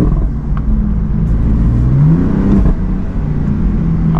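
BMW M4 engine rumbling and echoing while driving through a tight, enclosed space on backroads, a loud, steady low drone with a slight rise in revs partway through.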